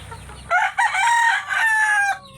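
A rooster among native chickens on a small farm crows loudly and close by, one long strained call with a brief break near its start, over faint background ambience.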